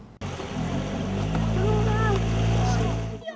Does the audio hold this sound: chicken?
no